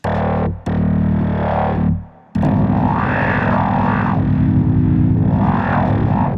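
Thick, distorted tones from a Madrona Labs Aalto synthesizer held and sustained, briefly cutting out before swelling back with shifting, swirling overtones.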